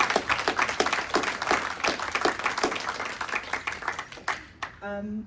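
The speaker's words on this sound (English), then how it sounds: "I would like a little applause for that because my God." Audience applause at a UK Games Expo panel on women in tabletop roleplaying games, a few seconds of steady, moderately loud clapping from a seated crowd that thins out, with a brief voice at the very end.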